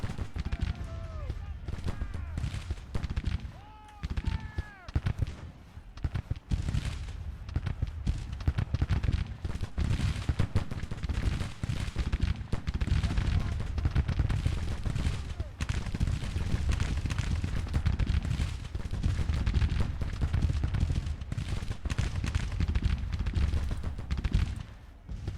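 Ongoing crackle of massed musket and cannon fire across a Grand Tactician: The Civil War battlefield, a dense continuous rumble that lasts throughout, with a brief voice near the start.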